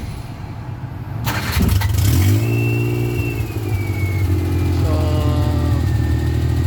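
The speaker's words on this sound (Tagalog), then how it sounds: "papandali natin yung makina" A Suzuki Multicab with an electrical fault cranks and fires up loudly, then its small engine revs, rising and falling in pitch before settling into a steady idle, close by, with a brief spoken word at the start.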